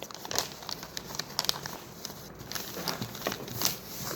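Material being folded back and forth into a bow gives off soft crinkling and rustling, close by and quiet, in short irregular bursts with no talking.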